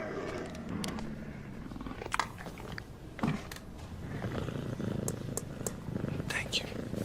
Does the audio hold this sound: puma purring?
yes